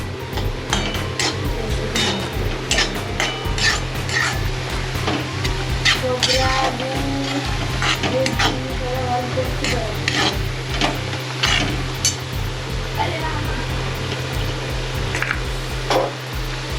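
A coconut filling cooks in a pan in a village kitchen in Devgad, Konkan, with steady sizzling and frying under repeated scraping and stirring strokes of a spoon against metal, plus occasional clinks, loud and continuous throughout.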